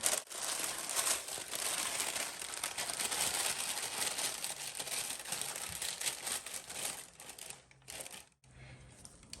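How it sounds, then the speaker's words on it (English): Parchment paper is pressed into a bread pan, giving close, continuous crinkling and rustling that dies away into near quiet at the end, with no speech. "I'm going to use parchment paper instead of greasing and flouring it. It's just simple. I place it in my pan."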